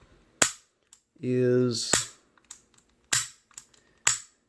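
Dry-fire trigger clicks from a Bulgarian Makarov pistol: four sharp, close metallic snaps spaced about a second apart, with a short burst of talk between the first two.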